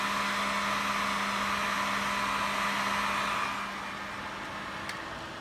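Heat gun running steadily beside a fan speed controller under test: a constant whooshing blower with a low hum, which drops and softens partway through as it is switched off, leaving a quieter fan whir.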